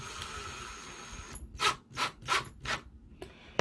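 A screw driven snug into particle board while installing an IKEA NORRFLY lighting fixture: after a steady background hiss, four or five distinct grinding, whirring bursts in an even rhythm, close and fairly loud, with no talking.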